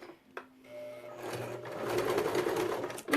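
A domestic sewing machine stitches vintage synthetic leather, starting with a few clicks and a low hum before building into a steady, close mechanical whir of needle strokes, then ending in a sharp knock.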